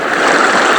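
A clear countryside river near a dam flows in a steady, loud, close rush of water that lasts under a second.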